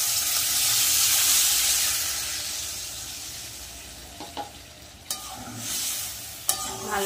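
Water hitting a hot pan of frying thin-cut potatoes for a spicy fish curry, a loud hissing rush that gradually fades to a steady simmer, followed by a few clinks of utensil on pan, no talk.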